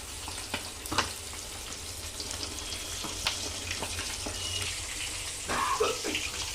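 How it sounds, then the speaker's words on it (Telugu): Chicken deep-frying in hot oil in a home kitchen, a soft, continuous bubbling sizzle with occasional crackles and a few sharp pops, moderately quiet and without talk. "చికెన్ అనేది బాగా ఫ్రై అవుతుంది"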